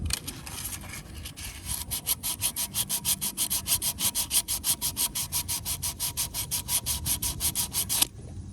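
Hand sanding a supercharger port with 80 grit sandpaper: a steady, close, rapid back-and-forth rasping of dozens of even strokes, with no talking.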